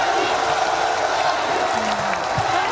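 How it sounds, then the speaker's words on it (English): A crowd claps and cheers at a League of Legends esports tournament: a steady, wide wash of applause with a few whoops, heard under a voice on the microphone. "Un tonnerre d'applaudissements."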